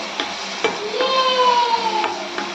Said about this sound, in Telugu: మష్రూమ్ ఫ్రై అయిపోతున్నాయి.